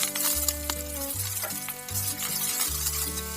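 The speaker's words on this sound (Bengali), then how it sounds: "দিয়ে ভালো করে নেড়ে নেব এরপর এর মধ্যে দিয়ে দেব" Onion paste stirred into a frying pan with dried red chilli and cumin while making a potol malaikari. A steady sizzle carries a few soft clinks from a spoon moving through the pan, and there is no talk.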